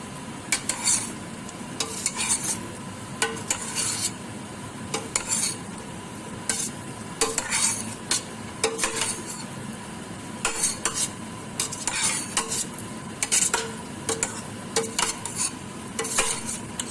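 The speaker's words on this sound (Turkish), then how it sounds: "küp küp doğramış olduğum patateslerimi de koydum. Güzelce karıştıracağım." A spoon scrapes and clatters repeatedly against a pot as diced potato cubes are stirred, with a soft sizzle underneath.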